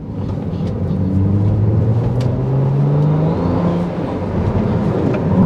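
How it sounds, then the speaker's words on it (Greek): A Ferrari 296 GTB engine drops two gears together with the left paddle held, giving a loud, steady drone close by that wavers in pitch as the revs shift. "Κρατώντας παρατεταμένα τραβηγμένο το αριστερό πάντλ, κατεβάζει 2 ταχύτητες μαζί"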